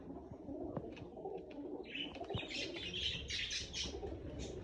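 Wild pigeons at an outdoor pigeon market in Andijan coo and chirp with bursts of wing flapping, a steady mix of calls over a busy background murmur.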